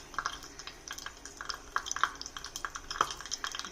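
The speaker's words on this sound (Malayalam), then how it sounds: "കടുക് പൊട്ടട്ടെ കേട്ടോ" Mustard seeds crackle and pop in hot coconut oil in a pan, with many small, sharp, irregular snaps bursting close by at an uneven pace. No one speaks, and no other sound competes with the popping.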